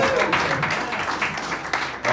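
Audience applause at a stand-up comedy show, a dense steady wash of clapping hands filling the room, with some voices mixed in.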